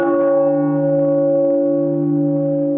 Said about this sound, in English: the bells tolled.